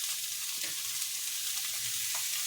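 Potatoes being fried for dum aloo with salt and chilli give off a soft, continuous sizzle, quiet and steady, with faint stirring scrapes and no voices.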